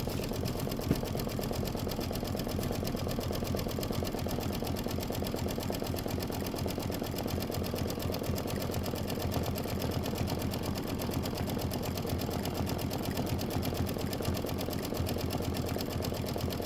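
An embroidery machine runs a long quilt-block stitch-out, its needle hammering in a fast, even mechanical rattle that holds at a steady, fairly loud level throughout with no talking.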